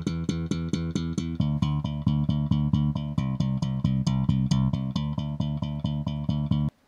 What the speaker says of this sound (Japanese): まずベースのバイパスを聞いてください。